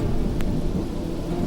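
Steady rain with the low, continuous rumble of a thunderstorm, loud and unbroken throughout, with no voices.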